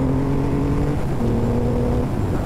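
A 2024 Triumph Rocket 3 Storm motorcycle engine revs hard at high rpm, a loud, close, sustained droning roar with a brief pitch shift midway as the revs rise again.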